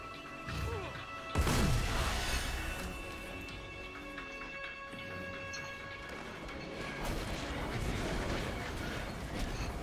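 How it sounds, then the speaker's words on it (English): Loud explosive rocket blasts from a Knight's auto rocket launcher in Destiny, a heavy crash near the start followed by ongoing rumbling combat noise and scattered impacts. "There's that knight and his auto rocket launching"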